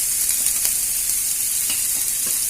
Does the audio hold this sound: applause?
no